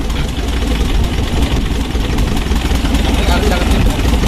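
A rugged old Isuzu Panther Legend diesel idles loudly and steadily with a leaking exhaust, its rough continuous rumble filling the clip while water splashes over it during a wash.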